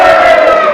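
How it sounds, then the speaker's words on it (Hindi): A church congregation claps and shouts loudly in praise during a Hindi-language worship service, a dense, sustained roar of crowd voices filling the whole short moment. "आइए जोरदार ताली बजा के, कम ऑन, ऊंची आवाज में चिल्लाते हुए उसको खुदावंद यीशु मसीह का धन्यवाद करें"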